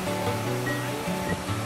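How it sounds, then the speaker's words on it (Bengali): A small waterfall beside a bridge on the Kaladhungi road near Nainital roars as a steady, dense rush of falling water, continuous and fairly loud with no voices. "এখানে এসে ঝর্ণার আওয়াজ সবাইকেই মুগ্ধ করবে।"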